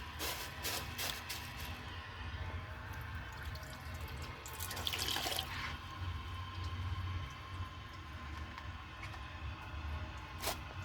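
A 1964 Gerber Mt Vernon toilet tank refilling, a steady hissing rush of water running continuously with faint drips, close by and with no talk.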